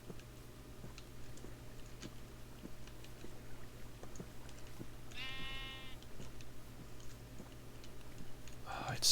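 One clear bleat from a Minecraft sheep rises midway through, above constant low background hum and scattered light ticking, with a brief start of another bleat at the very end.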